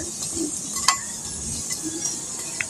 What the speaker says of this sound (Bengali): বন্ধুরা এই পকোড়াগুলোকে লাল লাল করে ভেজে নিতে হবে